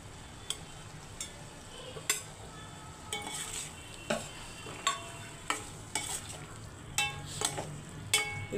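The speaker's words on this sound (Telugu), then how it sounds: "బాయిల్డ్ ఎగ్స్ కట్ చేసి పెట్టుకున్నాను, వాటిని వేస్తున్నాను" Cut boiled eggs are added to a simmering egg curry and stirred, giving regular soft clinks of a utensil against the pan over a low bubbling sizzle.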